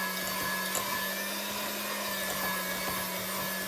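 An electric mixer beats labneh cheese with sugar for a cheesecake batter, a steady close whirring motor hum running without a break, with faint scraping of the beaters in the bowl.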